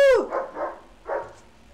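Dogs barking outside, a loud close yelp at the start followed by three muffled barks in an irregular burst, fading slightly toward the end.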